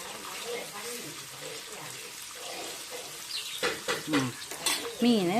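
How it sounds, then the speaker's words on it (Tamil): Fish frying in hot oil in a home kitchen, with a steady low sizzle throughout and a voice talking over it near the end. "ஒரு சைடு மீன் வந்து பொரிஞ்சிட்டு இருக்கு"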